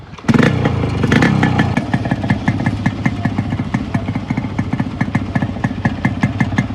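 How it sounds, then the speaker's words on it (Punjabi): A Yamaha RX 100 motorcycle, fully modified, fires up with a loud burst and then settles into a rapid, steady two-stroke idle with a rhythmic clatter, heard up close with no talking. "ਸਟਾਰਟਿੰਗ ਇਹਦੀ ਇੰਨੀ ਵਧੀਆ ਬਾਈ ਅੱਧੀ ਕਿੱਕ ਵੀ ਨਹੀਂ ਲੰਦਾ ਹੈਗਾ"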